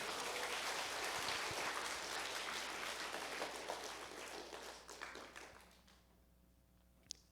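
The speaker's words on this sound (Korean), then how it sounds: "박수 좀 한번 쳐봐요." A church congregation at a revival service applauds, a dense sustained clapping that fades out over the last couple of seconds into near silence, with a faint click at the end.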